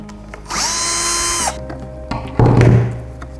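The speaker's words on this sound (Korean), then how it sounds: "드릴을 사용해서 여기 꽂혀져 있는 요 5개의 나사를 풀어주셔야 됩니다" A power drill backs out five screws from the rear frame of a seat that holds the headrest and shoulder extensions: one loud, steady high whine lasting about a second, then a lower, rougher burst of spinning and grinding.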